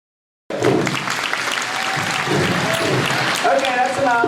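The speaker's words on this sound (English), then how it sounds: "Let's have a little bit of applause to see what they do." Audience applause at a horse expo trainer challenge, breaking out suddenly and holding steady as broad, dense clapping from a sizable crowd, with a few voices and an animal-handling bustle mixed in toward the end.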